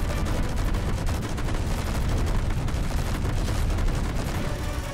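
Autocannon in Space Engineers firing continuously during a fight with a large ship, a loud, unbroken stream of rapid heavy shots with no pauses.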